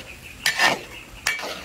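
Pancit puti noodles are stirred in a pan, two short scraping sweeps of a utensil against metal, close and fairly quiet.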